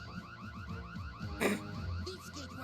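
Video game gate alarm sounding as a steady repeating electronic warble, fairly loud, with a brief burst of noise and other game sounds mixed in.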